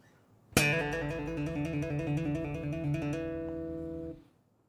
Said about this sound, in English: a trill is basically a collection of hammer-ons and pull-offs